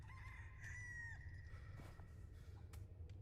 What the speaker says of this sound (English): Do I scare chickens while sitting here?